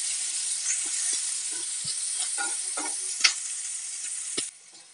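Onion and green chilli fry in a pan for poha, a close steady sizzle with repeated scrapes of stirring, cutting to quiet near the end.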